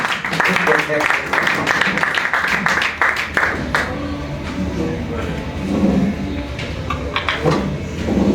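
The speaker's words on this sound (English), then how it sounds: "a very big round of applause to Captain George Mike Mukula" An audience at a Pan-African debate claps in a dense burst of applause that starts strongly and then thins out, with scattered claps and voices mixed in.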